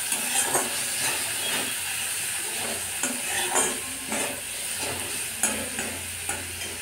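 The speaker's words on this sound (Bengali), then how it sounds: "এবার ভালো করে কষিয়ে নেব" Tomato with salt and turmeric sautéing in a pan, a continuous close sizzle broken by repeated rhythmic spatula scrapes and stirs.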